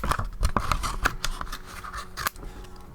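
Scissors snip through stamped paper while cutting out a heart shape, giving a close run of crisp, uneven cuts and rustling scrapes over a few seconds.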